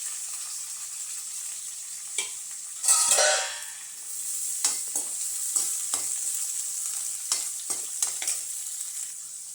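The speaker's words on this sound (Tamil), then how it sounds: "வெங்காயம், கருவேப்பிலை, பூண்டு எல்லாத்தையும் ஒன்றா சேர்த்து வணக்கி விட்டுக்கலாம்." Onions, curry leaves and garlic frying in a pan for fish curry, a steady bright sizzle with a loud burst near the start as the ingredients hit the oil, followed by scraping stirring strokes, close up.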